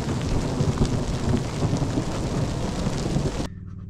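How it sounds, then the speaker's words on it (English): Hail and heavy rain pound steadily in a thunderstorm on a mountain bike trail, a dense, loud roar with low rumbling throughout that drops off abruptly near the end. "I'm getting hit with hail!"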